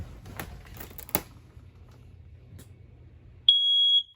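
A single loud, high electronic beep from a smoke alarm in a 2022 Heartland Pioneer 171 SS travel trailer rings out for about half a second, following some faint handling clicks and rustles.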